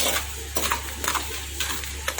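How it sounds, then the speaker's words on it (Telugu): Chickpeas dry-frying in a pan without any oil, stirred with light scraping and rattling at regular intervals over a steady background hum, close and clear with no talking. "ఇది ఎటువంటి నూనె అవసరం లేకుండా ఫ్రై చేస్తున్నామండి"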